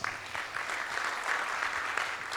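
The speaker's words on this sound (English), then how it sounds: "Give yourselves a round of applause." Audience applause fills a conference session on the morning of its first panel, a steady, dense wash of clapping from a moderately distant crowd with no speech over it.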